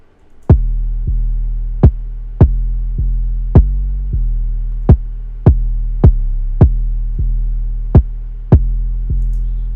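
Deep booming 808 bass notes sustain under sharp, regularly spaced kick drum hits that land off the bass rhythm, loud and steady with nothing else playing.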